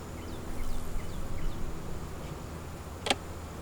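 Honey bees swarm through an open, smoked hive box on a farm yard during an inspection, a steady low buzzing hum throughout with one sharp click near the end.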